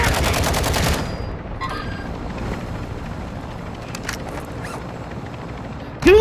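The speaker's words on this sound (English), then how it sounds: "I hear some fire, I'm about to jump off this shit. They're shooting me." Video game gunfire in Call of Duty Warzone 2: a dense rapid burst of automatic shots up close for about a second, then quieter scattered distant fire over a low rumble, and a loud burst at the very end.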